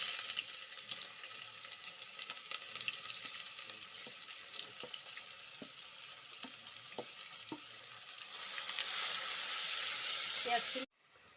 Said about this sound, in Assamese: পিঁয়াজখিনি ভাজি আছোঁ।